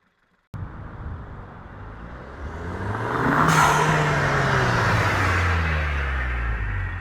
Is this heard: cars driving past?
yes